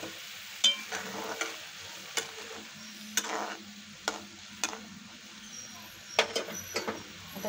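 A paste of Pandharpuri dal and water is added to a frying pan of rajma bhaji and stirred, with soft scraping clicks and taps over a low, steady sizzle, no talking.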